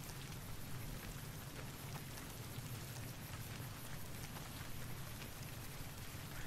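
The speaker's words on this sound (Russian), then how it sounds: "Надо же, реализовали все-таки дождик в Fallout'е" Rain in the video game Fallout: New Vegas, a steady, soft hiss of falling drops with a low rumbling undertone that continues evenly with no talk.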